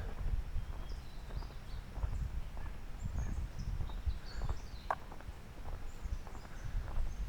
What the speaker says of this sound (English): the crickets and the birds and everything are just really nice this morning